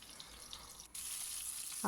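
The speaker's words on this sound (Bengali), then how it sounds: "এটা এক পিঠ ভাজা হয়ে গেলে আর এক পিঠও ভেজে নেব ভালো করে।" Four topshe fish fry slowly in a pan, giving a quiet, steady sizzle that grows a little louder partway through, with no one speaking.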